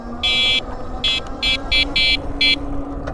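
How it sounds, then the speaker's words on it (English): Horn on a Kingbull Hunter 2.0S ebike sounds in six loud, sharp electronic beeps of uneven length, close by, over a steady low outdoor rumble. "Now let me hear the horn."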